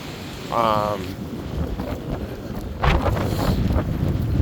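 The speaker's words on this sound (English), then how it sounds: "Jeez, this wind, this is gonna be a really noisy video" Strong wind buffeting a microphone over a flooded yard, a continuous rough roar with gusts swelling louder near the middle and end, plus a brief tonal chirp early on.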